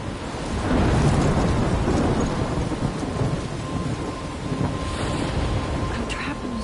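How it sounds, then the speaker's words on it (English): In the video game Life is Strange, a thunderstorm rumbles with heavy rain and wind. It forms a loud, dense, continuous wash of sound with low thunder beneath it and no speech. "I'm trapped in a storm?"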